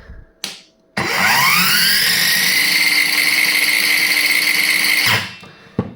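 A Ronix cordless circular saw spins up after a brief click and runs at a steady, loud whine for about four seconds, then winds down, with a short tap at the end.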